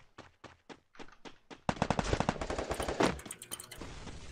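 Rapid gunfire exchange in a ranked video game match, starting with a few separate shots and then breaking into dense automatic bursts that fire continuously and loudly.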